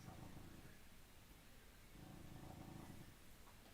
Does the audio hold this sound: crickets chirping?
no